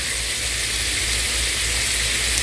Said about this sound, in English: I'm still going to let them sizzle